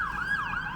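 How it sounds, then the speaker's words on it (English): Ambulance siren wailing close by as it passes, a loud rising and falling electronic tone over faint traffic rumble, with no talking. "here comes an ambulance"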